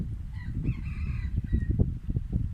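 A rooster crows over a low, busy rural background, with clucking chickens nearby and a steady rumble throughout.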